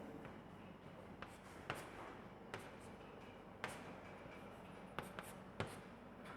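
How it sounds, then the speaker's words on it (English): Chalk or marker tapping and scraping on a classroom board during a chemistry lesson, faint scratchy strokes with sharp taps spaced a second or so apart over low room hum. "Immediately write down here"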